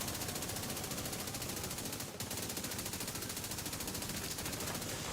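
Assault rifle fire in The Division 2 shooter game: rapid, continuous automatic bursts forming a dense crackling stream, fairly faint, with a momentary break midway.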